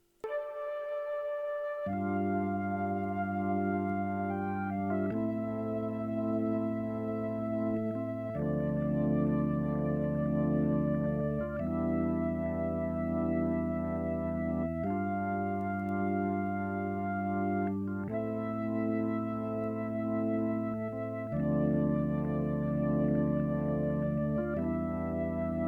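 A sustained organ chord from the Soul Explosion preset layered with a Sinful Orchestra flute, holding long, warm harmonic chords that shift every few seconds in a slow, steady progression for an orchestral R&B sample, with no talking.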